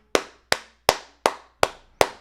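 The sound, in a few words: a single person's weak clapping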